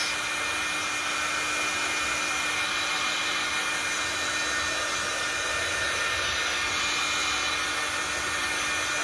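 A steady, loud hair dryer drying glue blows continuously, a constant broadband whoosh with a faint motor hum underneath, no voices.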